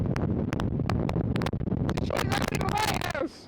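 Strong wind of 50-mile-an-hour gusts on the stormy Isle of Man coast, with waves crashing, buffets the microphone in loud, continuous roaring gusts while someone talks over it.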